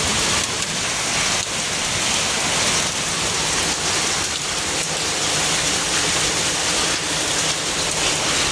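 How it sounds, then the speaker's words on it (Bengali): Heavy rain pouring down and drumming on surfaces, a loud dense steady hiss close by that fills the whole stretch without breaks, with no voices. "বিশাল পানি হইতেছে দেখো।"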